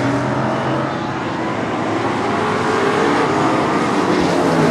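Race cars roar past on a short oval track during a Super Short Track Racing Series event in 2014, a dense, steady engine drone that stays loud and continuous throughout with no voices.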